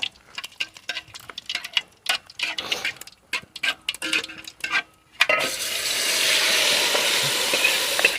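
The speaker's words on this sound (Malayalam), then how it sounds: "കറിവേപ്പിലയിട്ട് കടുക് എല്ലാം വറുത്തു" Mustard seeds and curry leaves fry in hot oil for a Kerala sadya madhura pachadi, first as scattered near popping crackles and stirring clatter, then a loud steady sizzle through the final seconds.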